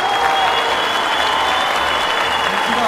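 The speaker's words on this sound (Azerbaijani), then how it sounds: "Həqiqətən də alqışlar gəlsin." Applause from the audience after a stage show fills the whole moment as a dense, steady roar of clapping, with a faint hum running underneath.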